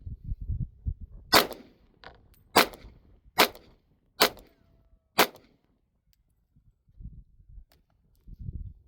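Five loud, sharp .40 caliber revolver shots ring out at an uneven pace, spaced roughly a second apart, with low rumbling handling noise before and after and a brief quiet stretch following the last shot.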